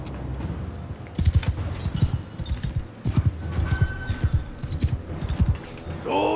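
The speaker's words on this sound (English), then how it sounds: "Well, their horse archers are coming in." Horse archers gallop in a medieval battle game, a rush of rapid hoofbeats thudding close and loud in uneven bursts, with occasional neighs and battlefield clatter around them.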